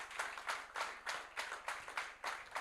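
Church congregation clapping in a strong rhythmic unison pattern, about four beats per second, loud and close, with no voices over it.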